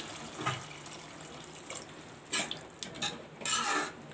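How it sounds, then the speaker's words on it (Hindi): Water being poured into a pan of chickpea curry on the stove, with clinks of a utensil against metal and splashing bursts near the end, close and fairly loud. "मैं यहाँ इसमें थोड़ा पानी ऐड करूँगी"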